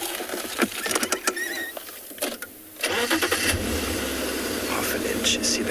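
A safari vehicle engine starts and settles into a steady mid-pitched idle close by in the bush on a sunrise game drive near a lion cub, after a few seconds of rustling and clicks.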